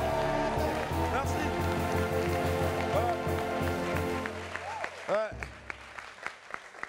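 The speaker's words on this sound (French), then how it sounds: "On va s'applaudir très fort, s'il vous plaît." A live comedy show audience claps loudly, with voices and cheering mixed in, before the clapping breaks up into a few scattered claps and sharp shouts.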